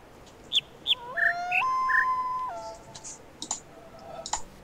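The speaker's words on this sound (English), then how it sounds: "Is it not the bird song I should be listening to this time?" Video game birdsong plays in short chirps and a few sustained whistled tones, with scattered clicks between the calls and no speech.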